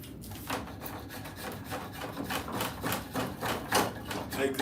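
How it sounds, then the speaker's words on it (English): A draw knife shaves along a piece of wood in a run of rhythmic rasping strokes, close and moderately loud, with no talking. "Let's get out the draw knife here."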